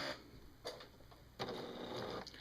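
A sewing machine stitches a quilt block, running in short bursts of close, rapid mechanical chatter separated by brief pauses.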